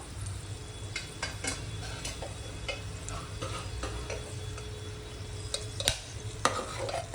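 Ground masala paste fries in a pan with cinnamon, cardamom and peppercorns for a village-style mutton curry, a soft continuous sizzle punctuated by scattered stirring scrapes and small ticks, close and moderately quiet, with no talking.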